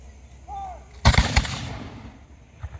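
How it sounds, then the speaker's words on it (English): A reenactment regiment fires a musket volley outdoors: a brief whistle-like tone, then a loud ragged crack of several near-simultaneous shots rolling into a fading rumble, with a faint pop afterward. "Crack an excellent volley."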